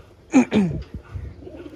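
A pair of short, low coos from pigeons in a flock of about seventy, close by. Two quick calls come back to back, then fainter murmuring follows.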